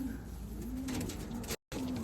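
A white pigeon coos close up, a couple of low soft rolling calls against faint room noise, broken by a brief silent gap.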